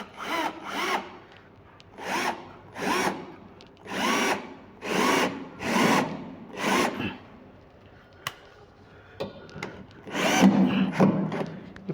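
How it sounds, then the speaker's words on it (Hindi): A power drill drives the first screw during an installation job, whirring in a series of short, close bursts with brief pauses between them, then quieter scraping and handling noises, ending in one longer, rougher burst. "अब ये पहला स्क्रू हमने लगाया"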